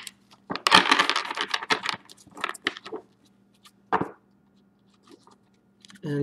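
A tarot deck shuffled by hand, with a long burst of quick papery riffling up front, then scattered softer flicks and a couple of taps as the cards are knocked together, close with no talk.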